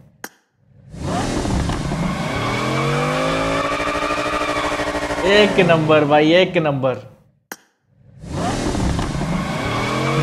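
A Bugatti car engine in the video game PUBG revs loudly in long rising and falling sweeps, with a sharp burst of higher revving near the end, as someone speaks excitedly over it.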